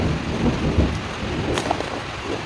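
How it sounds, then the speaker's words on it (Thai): Steady rain patters down while low thunder rumbles underneath, with a brief sharper crack partway through. "โอ้ตอนนี้ฝนตกด้วย"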